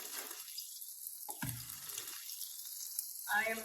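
Vegetable oil sizzling and crackling steadily in a pan as clam cakes fry, a soft continuous frying hiss with a brief clatter midway.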